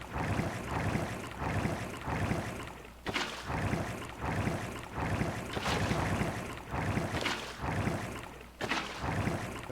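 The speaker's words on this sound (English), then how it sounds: "It was the water with the soul sand launching me up." A Minecraft water bubble column over soul sand churns with a rushing, bubbly wash that surges in repeated waves, loud and close with no talk.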